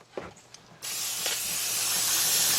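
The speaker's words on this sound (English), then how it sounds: "let's get us some carburetor cleaner or brake cleaner. Let's spray all this and clean it up" Carburetor or brake cleaner sprays from an aerosol can onto the oil filter housing area of a 2007 Nissan Murano 3.5 V6, a loud steady hiss that starts after a few light clicks and continues unbroken.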